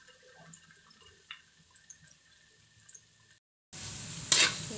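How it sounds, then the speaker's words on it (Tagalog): Corned beef with onion frying in a pan, starting as a faint crackle and stirring scrape, a brief silence, then a loud burst of sizzling as more goes into the hot oil. "Kumbaga, pinipreto ko muna siya."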